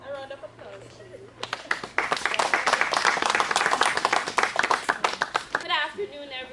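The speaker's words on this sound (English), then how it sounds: "A round of applause, please." Audience at a book launch bursts into sustained clapping that swells and holds for several seconds before tapering, with a voice speaking briefly just before and again as it dies down.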